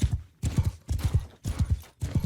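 A donkey's hooves clopping in the video game Mount & Blade II Bannerlord, regular bursts of near, knocking steps repeating at an even gait with short gaps.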